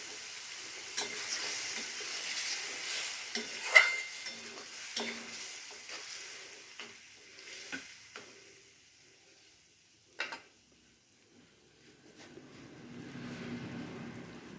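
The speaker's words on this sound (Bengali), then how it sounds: "মশলাটা মিক্সিতে বানিয়ে নিয়েছিলাম, সেটা এবার কষিয়ে নেব।" A spice paste of ginger, cumin, turmeric and chili fries in a pan for pea ghugni, giving faint sizzling broken by scattered stirring knocks and scrapes, fading to a low hiss near the end.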